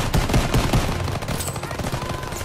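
Dense, rapid gunfire from the Call of Duty: WWII combat mission Liberation, loud close shots and bursts in quick succession, steady throughout with no talk over it.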